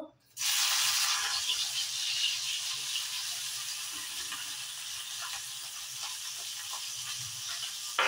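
Tomatoes tipped into hot oil for a tomato and coriander-leaf dish set off a sudden, loud, steady sizzle that carries evenly to the end without fading.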